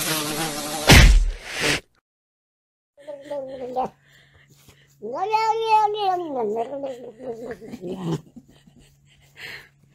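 A house cat lets out a drawn-out, rising and falling meow in the middle, after a sharp burst of noise at the start and a few short quieter sounds with a faint steady hum beneath.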